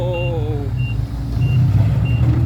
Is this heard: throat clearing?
no